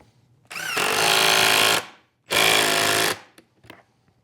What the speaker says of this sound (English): drive a screw in from the back of the leg stop into the hinge plate